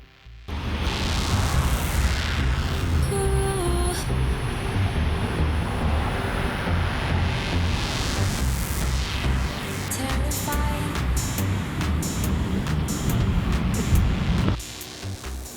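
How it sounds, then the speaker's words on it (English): Road traffic running beside a lake, heard as a loud, continuous rush of passing vehicles with swelling whooshes as cars go by, steady throughout with no talking. "pardon the noise. We got traffic on one side"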